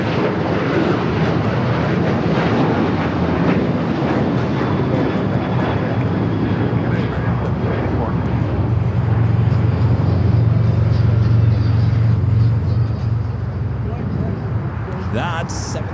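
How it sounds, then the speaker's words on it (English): American Airlines Boeing 737-800 jet at an airport, a steady, loud engine roar with a low rumble swelling in the middle, with people talking over it. "That's 737-800 heading to Puerto Vallarta, American Airlines Flight 764."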